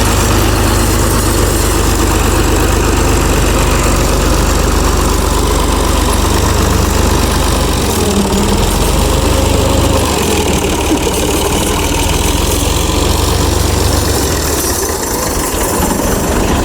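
A tractor engine idles loudly and close by, a steady deep rumble with rough knocking vibration that holds for the whole stretch, with no voices.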